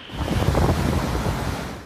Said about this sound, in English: the strongest winds in a century lashed Puerto Rico